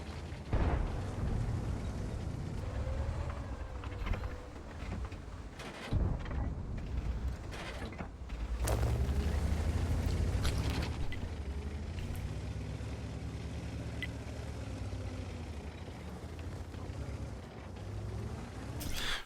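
World of Tanks battle with an Object 140 firing its tank cannon: several sharp booming shots and bursts break through a dense, continuous rumble of engines and battle noise, with no talking.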